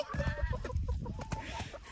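Chickens on a rural farm clucking close by, a busy run of short overlapping clucks and squawks filling the moment with no talk over them.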